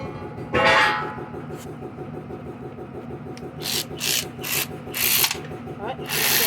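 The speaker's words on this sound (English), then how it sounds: "grab your electric ratchet and grab your two 10mm or 3/8 bolts. Put them on the back of the carb." An electric ratchet buzzes in a fast, repetitive clicking drone while running 10mm bolts into the back of a Toro Super Recycler mower's carburetor, with sharp metallic scrapes and clanks breaking in toward the end.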